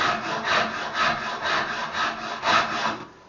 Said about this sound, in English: You can get finer rasp. I'll go ahead and start using the fine side of this.